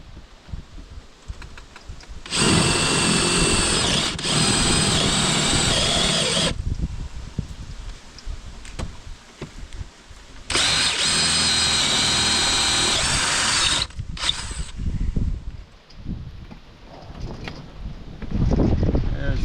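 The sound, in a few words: drilling a hole with a drill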